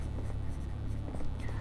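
A short stretch of steady scratchy writing on a board, close and continuous over a low background hum.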